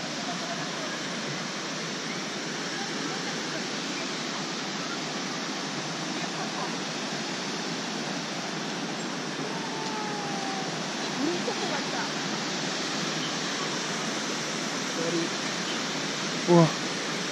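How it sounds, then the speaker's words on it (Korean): A waterfall on the Manaslu trek in Nepal's mountains gives a constant, even hiss-like roar heard from a distance, with a brief faint voice near the end. "어우 저 폭포 봐."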